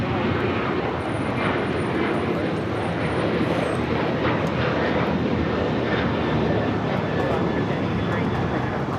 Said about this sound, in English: That was Alaska Flight 1083 headed to Seattle, 737-900ER.